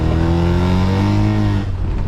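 Rotary engine in an abandoned pickup truck revving hard with a failing exhaust repair, a loud, continuous, raspy engine drone close by that holds steady then eases slightly near the end.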